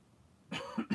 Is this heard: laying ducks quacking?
no